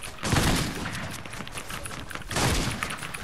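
Gunfire in the video game Fortnite, with two close, sharp bursts of shots, one near the start and one near the end, over steady background game noise.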